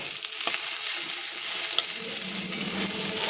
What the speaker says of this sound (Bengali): পেঁয়াজ রসুন দুটো একসঙ্গে লাল করে